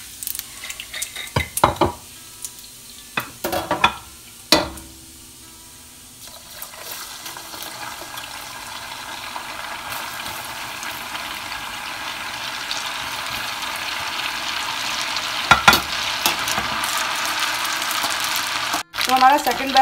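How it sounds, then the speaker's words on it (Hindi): A second batch of macaroni snacks fries in hot oil, a steady sizzle that builds and holds for about twenty seconds after a few sharp clatters of stirring or scooping at the start. "और इसी तरह से हम अपना सेकंड बैच भी फ्राई कर लेंगे।"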